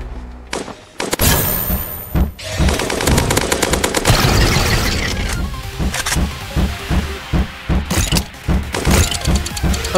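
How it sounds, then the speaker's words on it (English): Rapid automatic AK rifle fire in the Roblox game A Dusty Trip, loud repeated bursts of gunshots with short pauses between them and no talking. "I will try to beat him with AK now."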